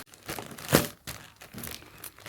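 Gift wrapping around a thick saree parcel is torn and crinkled open indoors, with a cluster of loud rips peaking midway among softer rustling and crumpling throughout.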